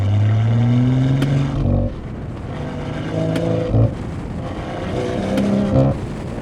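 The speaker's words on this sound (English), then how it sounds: "Let go of the throttle and you hear like a little barb" A tuned BMW 540i (G30) engine revs and drops off, with short sharp exhaust pops and crackles bursting out each time the throttle is released, close by.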